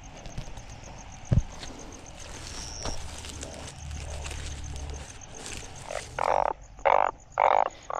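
Glyphoglossus molossus frogs croak amid heavy rain, several loud, close, evenly spaced calls near the end over a steady hiss of rainfall.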